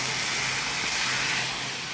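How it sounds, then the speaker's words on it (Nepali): Water poured into a hot pan of chicken soup gives a steady, loud hissing rush of steam and spray that holds unbroken for the full two seconds, with no talk over it. "अब चाहिँ पानी हाल्दिउँ।"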